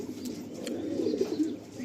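Pigeons coo in a loft holding over a hundred birds, low throaty rolling calls overlapping close by against a quiet background with no talking.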